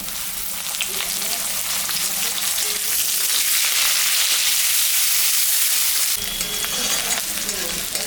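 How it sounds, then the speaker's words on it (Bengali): Potatoes and onions crackle in hot oil in a continuous, loud sizzle with faint stirring scrapes. The frying rises slightly toward the middle and carries on unbroken, with no one speaking. "আলু পেঁয়াজটা ভাজা হয়ে গেছে"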